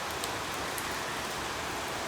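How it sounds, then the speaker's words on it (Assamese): Heavy rain falls outdoors near a house, with a dense, steady wash of noise and faint patter on surfaces. It is continuous and even, with no voices. "ইয়াত চাওকচোন ইমান বেছি বৰষুণ আনিছে মানে বহুত ডাঙৰকৈ বৰষুণ আনিছে"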